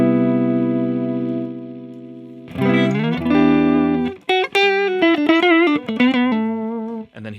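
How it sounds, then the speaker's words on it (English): An electric guitar played through a boost pedal turned fully up: a long sustained chord rings out and decays, followed by a fresh strummed chord and a run of thick, slightly gritty single notes. "If I turn this all the way up, it might get closer to a drive or like a lower level distortion."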